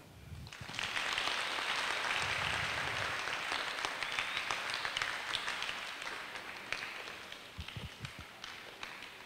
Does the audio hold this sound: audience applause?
yes